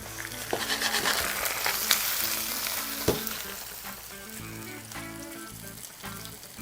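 Mushrooms sizzling and frying in a hot pan, a steady, fairly loud crackling hiss with scattered pops and occasional stirring clinks, no voices.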